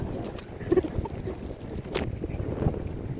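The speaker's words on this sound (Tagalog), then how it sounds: "Super mahangin." Gusty wind buffeting the microphone in low rumbling bursts at sunset in Iloilo, with faint water and boat noise in the background.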